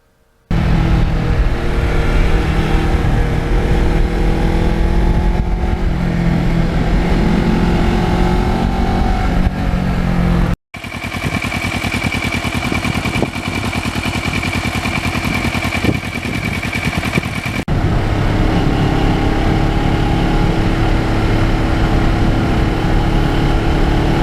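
A 2009 Kawasaki Ninja motorcycle being ridden on a road, its engine droning loud and steady throughout with a brief cutout midway, wind noise underneath, no talking.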